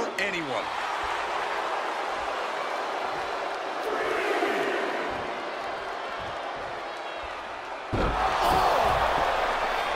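A roaring arena crowd in the wrestling video game WWE 2K23 fills the whole stretch as a steady, loud wash of noise, swelling near the end, with a voice talking over it.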